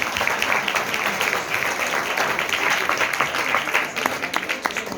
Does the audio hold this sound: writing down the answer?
no